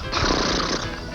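A person imitates a horse neigh, a single rough whinnying vocalization lasting about a second, close and fairly loud, made while pretending zebras sound like horses.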